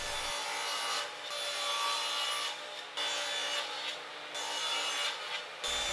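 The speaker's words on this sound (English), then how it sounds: "using my cut side as a reference against the fence, I trim off the factory edge and bring my pieces to final width" A table saw rips wood pieces to final width against the fence, a steady loud whining cut that briefly dips between passes and runs continuously with no talking.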